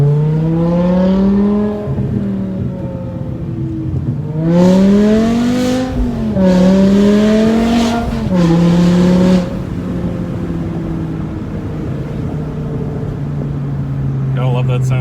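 An Audi RS7 accelerates on a highway, its engine note climbing through several gear pulls in a loud, rising drone heard from inside the car, then settling into a steady cruise.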